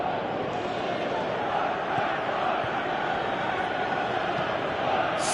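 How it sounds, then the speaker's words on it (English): A steady, dense crowd roar and chant fills a stadium in the Winning Eleven 2018 football video game, continuous and even throughout, with commentary over it. "Crowd calling for him to shoot."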